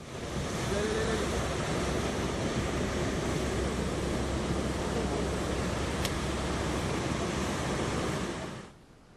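Ocean waves break along the coastline at Udupi, a loud, continuous roar of surf with heavy wind-like rush that holds steady, then cuts off abruptly at the end.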